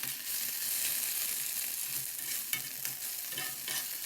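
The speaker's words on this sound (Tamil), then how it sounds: "இந்த வெங்காயம், இந்த பட்டை இதெல்லாம் போட்டுக்கொள்ள, இதெல்லாம் நல்லா கலந்து வர்ற மாதிரி இப்போ வந்துட்டு நல்லா வதக்கி விட்டுக்கோங்க, கிளறி விட்டுக்கோங்க" Onion and cinnamon stir-fried in a pan for dhaba-style egg masala, a steady close sizzle with soft scraping stirs running throughout, no voices.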